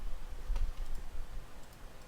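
Light, quiet clicking of keys on a computer keyboard at a desktop, a few scattered taps over a couple of seconds.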